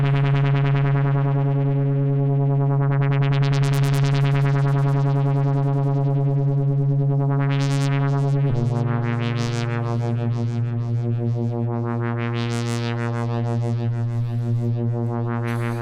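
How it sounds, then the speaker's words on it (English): Steady synthesized tones from a ring modulator module with a pulsing, beating shimmer that sweeps up and down, and the pitch drops partway through. "I'm gonna get some beating sounds now."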